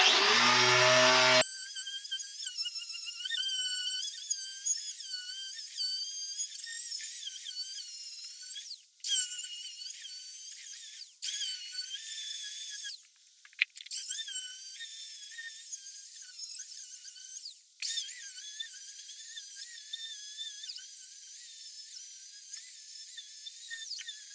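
A power tool buffing rust off the cast-iron top of an old Northfield table saw: a steady high-pitched whine with squeaky, wavering tones. It runs loud and close almost throughout, with a few brief dips where the tool eases off.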